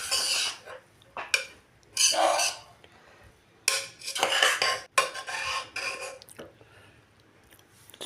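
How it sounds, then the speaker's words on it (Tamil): A metal ladle scrapes and clanks against the bottom of a pot as cowpea rice is stirred, several bursts of stirring separated by short pauses, close and alone. "கரண்டியோட அடிப்பகுதி வச்சு நல்லா கிளறிக்கணும்."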